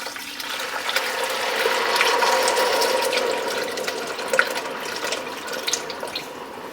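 Hot broth pours over rice in a pan, a steady splashing, trickling stream with a few small clinks near the end, no talking.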